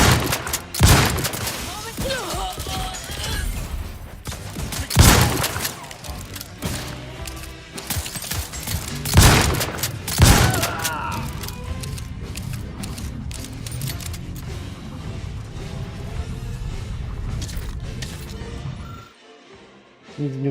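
Shotgun blasts in a video game, several loud booming shots spaced a few seconds apart amid busy game noise, with a voice talking at times.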